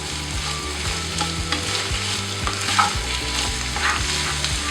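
Onions frying in leftover masala oil in a pan on medium flame for a prawn roast, a steady close sizzle and crackle with occasional stirring scrapes, no voices.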